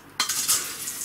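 Orchid potting mix of bark and expanded clay is stirred together, a brief close rustling, gritty scrape lasting about a second.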